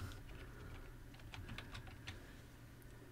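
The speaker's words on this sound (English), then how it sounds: "I'm just going to type Workspace." Typing on a computer keyboard while a file name is entered in a save dialog; quiet, light clustered key taps over a steady low hum, close and soft.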